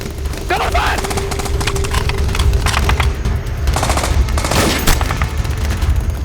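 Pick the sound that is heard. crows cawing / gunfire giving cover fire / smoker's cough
gunfire giving cover fire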